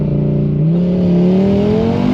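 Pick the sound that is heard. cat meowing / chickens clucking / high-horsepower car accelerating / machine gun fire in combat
high-horsepower car accelerating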